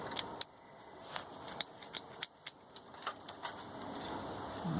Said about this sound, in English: So the first thing you have to do is you have to cut the harness off